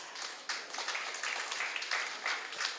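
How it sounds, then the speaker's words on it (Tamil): A Salangai Poojai audience applauds two young girl dancers after their performance, a dense, even patter of many hands that stays fairly soft and steady for a few seconds. "நம்மளுடைய ஒரு அருமையான கைத்தட்டலை கொடுப்போம்"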